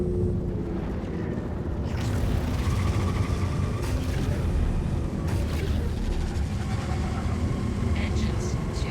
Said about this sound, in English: Mister says that engine sounds sweet